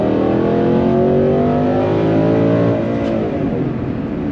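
A V8 car engine in second gear revs hard up to the rev limiter, a loud, sustained roar that holds steady and then eases off slightly near the end, with no talking.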